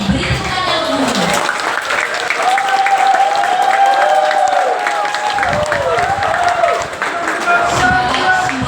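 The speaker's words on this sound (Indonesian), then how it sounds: "Beri tepuk tangan yang meriah." Guests at a wedding applaud a newly married couple with loud, continuous clapping. Voices and cheers rise over the dense applause, and a sung or hummed line runs through the middle.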